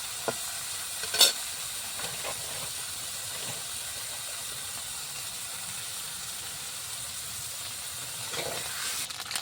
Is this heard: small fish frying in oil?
yes